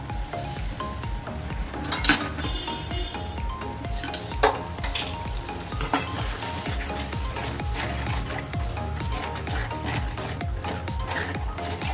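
Spice paste sizzles in a pan after water is added while a utensil stirs and scrapes, with clinks of metal against the pot, a steady hiss beneath it, and occasional louder knocks.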